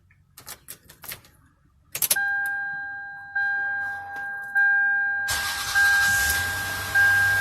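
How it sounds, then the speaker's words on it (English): A few clicks and a repeating electronic chime, then a 1998–2003 Lexus or Toyota engine cranks with a newly programmed key and catches, settling into a steady running roar. "I'm going to see if it'll start the engine"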